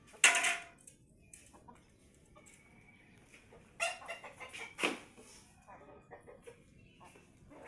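Chickens being fed grain cluck in scattered, short bursts at moderate distance, with quiet gaps between calls over a faint outdoor background.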